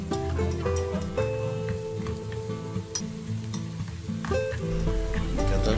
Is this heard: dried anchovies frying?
yes